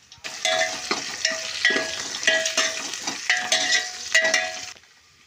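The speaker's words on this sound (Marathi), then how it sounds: "जाडं मीठ टाकल्यानंतर ते आपल्याला मिठामध्ये हलवून घ्यायचं आहे सर्व" Mutton tossed with coarse salt in a metal pot, a spoon scraping and clanking against the sides in a rhythmic series of strokes, with a faint sizzle underneath, stopping abruptly at the end.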